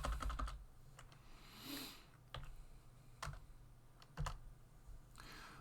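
Soft keystrokes on a computer keyboard tap in a sparse, irregular rhythm, a few quick presses spaced by pauses, faint and close in a quiet room.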